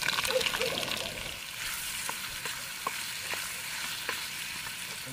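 Chopped onion frying in hot oil at a forest campsite, the start of fried Maggi noodles: a steady, close sizzle with soft crackles and occasional pops running throughout, no talking.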